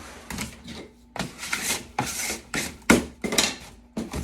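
A scraper drags excess foot soak bath bomb mix, with magnesium flakes and menthol, off the top of a mold in about six short, rough rasping strokes with brief pauses between them. The strokes are close and there is no talk.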